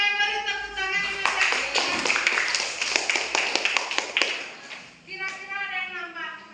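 Clapping from a classroom audience during student presentations, a burst of sharp claps lasting a few seconds between stretches of speech, close and fairly loud.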